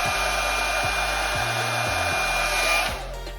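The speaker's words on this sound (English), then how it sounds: "take your hair dryer, get out of the shower, put it on high" A hair dryer set on high blows loudly and steadily at close range, a constant whooshing roar that dips slightly near the end.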